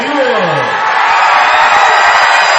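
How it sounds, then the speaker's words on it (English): Cheerleaders chanting their opening cheer at a high school basketball sectional game, loud and continuous, with a noisy crowd roaring underneath. "Pana cheerleaders will do their opening cheer"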